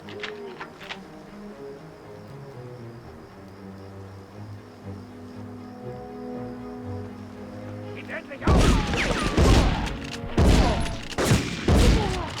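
Shotgun blasts in Medal of Honor, a tight cluster of loud booming shots after a stretch of quieter ambient game music and low rumble.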